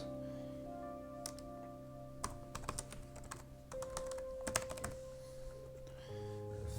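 Typing on a computer keyboard, scattered bursts of crisp key clicks coming close and quiet over a steady low electronic hum, with no talking.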